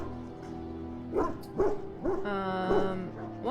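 Hounds in Dragon Age: Origins bark several times in quick succession, close and fairly loud, with short whimpering yips between the barks over a low game backdrop.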